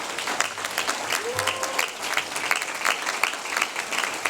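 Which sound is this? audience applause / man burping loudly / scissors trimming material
audience applause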